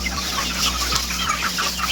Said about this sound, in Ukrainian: такі малесенькі курчатка